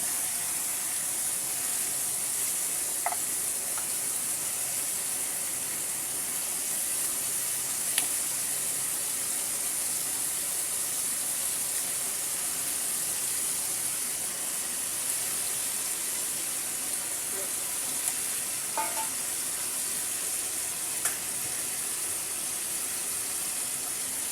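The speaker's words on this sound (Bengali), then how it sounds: "ফ্রাই প্যানের পাশে আমি আলুগুলো দিয়ে দিচ্ছি" Potatoes fry in a frying pan with a continuous hiss of sizzling oil for the whole stretch. A few faint clicks and taps come through, and no one talks.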